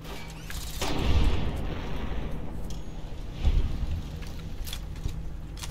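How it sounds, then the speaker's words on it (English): Two heavy booming hunting rifle shots ring out in the video game Fallout: New Vegas, spaced a couple of seconds apart over a steady rumbling game background. "The hunting rifle's where it's at"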